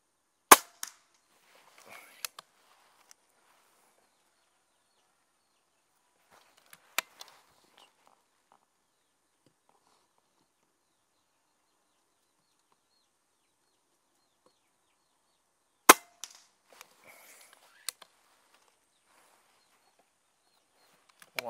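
Diana Outlaw Gen2 air rifle fired at a 50-metre outdoor range: a few sharp, isolated cracks spaced several seconds apart, each followed by faint clicks of cocking and handling, with near-silence between shots.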